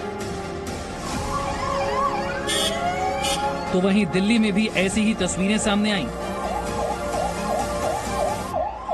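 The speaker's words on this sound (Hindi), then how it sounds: "दिल्ली के एलएनजेपी अस्पताल में रात में एम्बुलेंस का ये शोर बता रहा है कि स्थिति कितनी नाजुक है।" Ambulance sirens wail at night outside LNJP hospital in Delhi, rising and falling tones that swell louder midway and keep cycling, heard beneath someone narrating.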